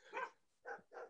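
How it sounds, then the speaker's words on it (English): Dogs bark three times in quick succession, faint and somewhat distant, with short gaps between the sharp yaps. "So when a dog walks by, they start barking."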